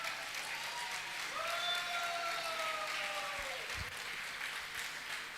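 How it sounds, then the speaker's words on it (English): Steady audience clapping for youth performers at a church dance event, a continuous even wash of applause with faint whistles riding over it and a couple of soft thumps near the end. "One, you have to clap for them."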